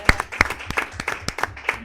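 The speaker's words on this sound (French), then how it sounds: "J'ai envie d'applaudir ça aussi." A handful of people clap at a council meeting, sparse separate claps in an uneven rhythm, close and fairly light.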